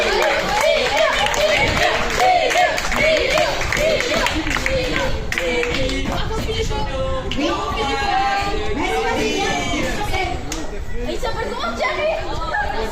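A theatre-forum audience at a sustainable-development village event applauds, a steady and dense clapping that lasts throughout with crowd chatter mixed in.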